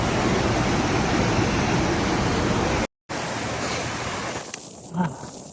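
Floodwater rushes through a normally small creek during a Kentucky flood, a loud, dense, continuous roar that cuts out briefly and returns somewhat softer, with a faint voice near the end.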